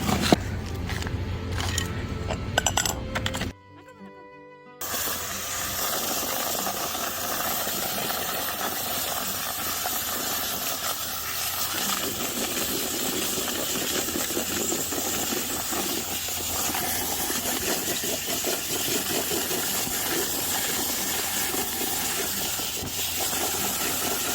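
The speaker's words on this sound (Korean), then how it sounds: "컴프레셔라고 하는 거거든요" An air compressor blasts air into a cut plastic bottle to peel garlic: after a short quieter start, a loud, steady rushing hiss runs on without a break.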